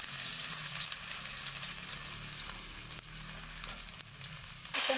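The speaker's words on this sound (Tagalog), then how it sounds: "Ayan, igisa natin ang luyas." Ginger sautés in a pan for miso sinigang with salmon head, a bright continuous sizzle with soft stirring scrapes, close and even, ending in a sudden louder burst of hiss.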